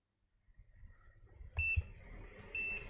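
A multimeter in continuity mode, probing the pins of a USB cable, gives two short, faint electronic beeps a second apart over quiet handling noise.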